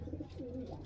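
Pigeons in a loft, a breed kept by a fancier, give a short, soft, low cooing murmur, a brief throaty coo close by with no voices over it.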